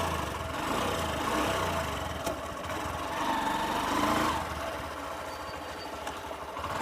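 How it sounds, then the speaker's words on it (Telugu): A Honda Shine 125 BS6 motorcycle engine runs with a steady low mechanical drone that swells slightly and settles, heard close with no talking. "ఆ సౌండ్ అదేను ఇంజిన్ సౌండ్."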